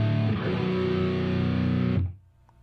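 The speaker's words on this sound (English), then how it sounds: "you can put the fifth in the bass, which makes the chord sound even heavier" A heavy distorted electric guitar power chord with the fifth voiced in the bass, shown in a John Petrucci-style lesson, rings out loud and sustained for about two seconds before being cut off into quiet.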